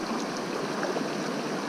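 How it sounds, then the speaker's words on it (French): A very small, narrow stream flows steadily nearby, giving a continuous soft rushing and trickling wash of water with no voices. "C'est vraiment un tout petit ruisseau."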